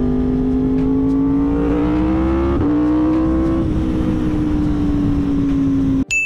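An in-line four sport motorcycle engine, such as a ZX-10R or R1, holds a loud, smooth high-pitched howl that rises and falls through several gear changes before cutting off abruptly at the end.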